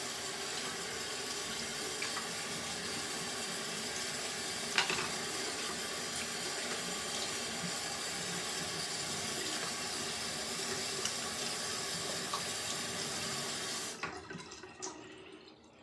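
Continuous splashing water from a running tap as a face is wetted before a wet shave, steady and fairly close, with a few louder splashes before it cuts off near the end.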